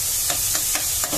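Onions frying in a pan for a lotus root sabzi, a steady close sizzle with a few soft stirring scrapes repeating roughly every quarter second.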